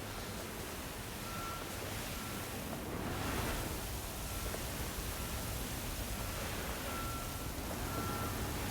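Vehicle reversing alarm in Construction Simulator, a steady repeating electronic beep ringing out at regular intervals over loud, constant engine and ambient noise, with no talking.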